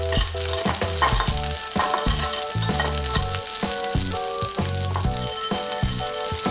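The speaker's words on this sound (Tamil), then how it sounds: "இப்போ நம்ம எடுத்து வச்சுருக்க உப்பு வறுத்துடலாம்." Salt dry-roasting in a pan for a horse gram and garlic powder, with loud continuous gritty scraping and rhythmic stirring strokes close by, no voices.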